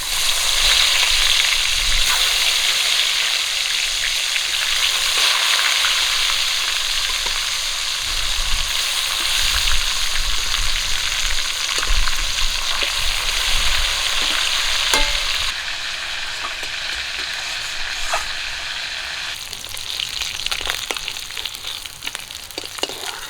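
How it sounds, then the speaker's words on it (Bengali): Pieces of katla fish frying in hot oil, a loud, steady sizzle and crackle that runs unbroken and alone, easing slightly toward the end. "বাকি মাছগুলো একই রকম করে ভেজে নেবো"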